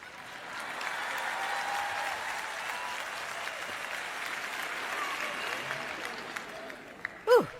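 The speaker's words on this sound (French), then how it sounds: "Si vous allez applaudir, ne vous arrêtez pas à mi-chemin." Steady audience applause filling a large hall at a church teaching event, a continuous wash of clapping at moderate distance that holds evenly and ends with a brief louder bump.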